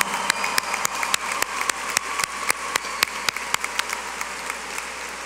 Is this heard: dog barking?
no